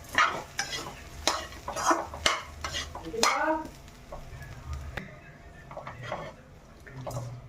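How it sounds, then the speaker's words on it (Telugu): A spoon works through pulihora, tamarind rice, in a pan, giving a series of scraping, clattering stirs in irregular bursts with a faint sizzle beneath, close by and moderately loud. "పులిహోర బాగా కలిసింది."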